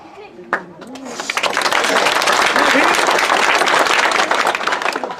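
An audience at a politician's speech on liquor and drugs breaks into loud, sustained applause that swells after a brief spoken opening and a sharp knock, then holds as dense clapping to the end.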